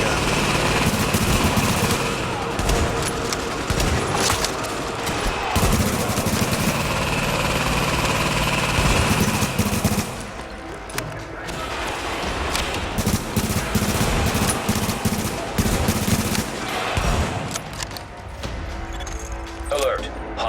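Machine gun fire in The Division video game crackles in long sustained bursts with brief pauses, mixed with engine rumble and impacts while a voice talks over it.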